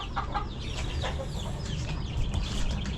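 Several chickens and hens cluck and chatter close by in short overlapping bursts, over a low background rumble at a construction site.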